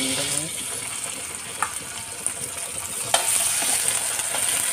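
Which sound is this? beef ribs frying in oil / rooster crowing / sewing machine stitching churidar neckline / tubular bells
beef ribs frying in oil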